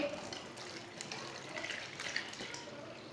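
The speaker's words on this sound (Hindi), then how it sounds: "1 किलो दूध डाल लेंगे।" Milk pours into a cooking pot for rice kheer, a steady liquid splashing and trickling that runs without a break, close and moderately quiet, with no voices.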